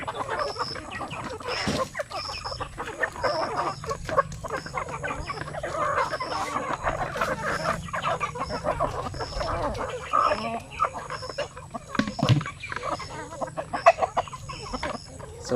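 Black chickens on a Filipino farm cluck and call close by in scattered bursts, with occasional louder squawks and background rustling throughout.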